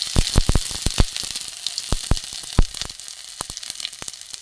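Ginger paste dropped into hot tempering oil with dried red chilli and bay leaf for a pea dal with bottle gourd greens. Sharp spitting crackles and pops come close and loud at first, then settle into a thinner, quieter sizzle.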